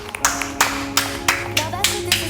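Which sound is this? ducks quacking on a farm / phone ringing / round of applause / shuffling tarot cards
round of applause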